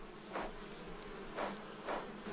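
Honey bees buzz in a few faint, short passes close by, each a soft rising and falling hum against quiet outdoor background.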